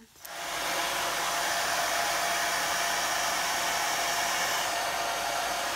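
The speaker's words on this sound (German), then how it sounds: "und föhne ihm die Haare und dann fahren wir los" A hair dryer switches on and runs at a steady, loud whoosh while drying a baby's hair, holding constant after a brief start with no voices.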